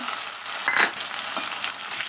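Spice paste of ground chillies and cumin sizzling and being stirred in hot oil with fried potatoes, for a rohu fish curry; a steady close frying hiss with a few scraping stirs, no speech.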